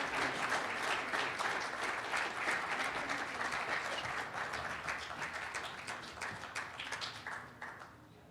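An audience at a public health homecoming awards celebration applauds a speaker to the stage, sustained dense clapping with crisp claps near the front that thins and fades toward the end.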